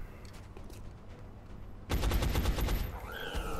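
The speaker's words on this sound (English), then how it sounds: "So if we can fire at this guy." Gunfire from a soldier in the XCOM: Enemy Unknown video game: after a quiet ambient stretch, a loud rapid burst of shots erupts and rings out.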